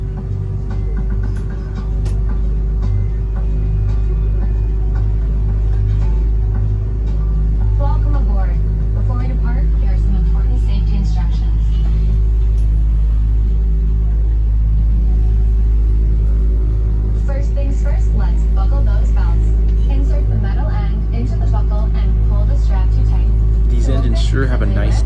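Deep, steady rumble of GE GEnx-1B engines spooling up, heard inside the cabin of an American Airlines Boeing 787-8 Dreamliner, a constant low roar with rising whine, and people's voices murmuring over it.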